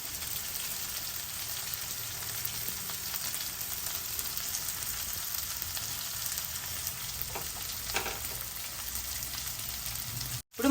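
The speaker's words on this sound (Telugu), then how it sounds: "కలిపేసుకొని ఉల్లిపాయల్ని బాగా వేగనిద్దామన్నమాట" Onions and finely chopped curry leaves frying in a pan for a kheema idly sandwich, a steady close sizzle with soft crackle running throughout, ending in a brief dropout and a bump.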